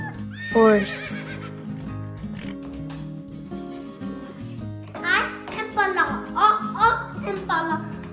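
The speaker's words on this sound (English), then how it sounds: "Horse." A horse gives a short, high whinny, followed by a voice speaking over a light musical backing.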